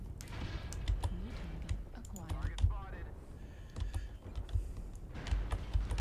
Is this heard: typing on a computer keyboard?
yes